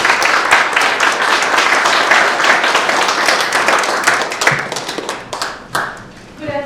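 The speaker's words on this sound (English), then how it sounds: "Please give her a warm round of applause." Applause from a conference audience following remarks by a Patent Court chief presiding judge at an IP moot court event: dense, steady clapping that fills most of the clip, then thins into scattered claps before fading out.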